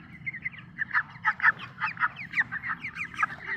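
Broiler chickens at about 24 days old, around 1200 grams, clucking in a poultry shed: a steady stream of overlapping clucks and short calls from many birds, moderately close, with no talking.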